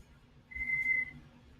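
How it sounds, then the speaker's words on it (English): A person whistles a single rolling, warbling note, held for about half a second and fairly faint, in a quiet space. "I can get my whistle to roll like that"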